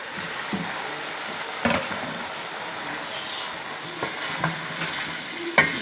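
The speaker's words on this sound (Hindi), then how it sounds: "अब साथ ही हम इसके अंदर लोबिया को डालेंगे और इसको अच्छे से हम फ्राई कर लेंगे" Red kidney beans (lobia) frying in a spice masala in a pan, with a soft, steady sizzle and several sharp scrape-and-clatter stirs of a spoon up close.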